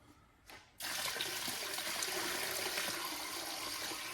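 Water poured into the sump of a garden water feature: after a faint brief splash, a sudden steady rushing pour starts and continues evenly at close range, with no talking.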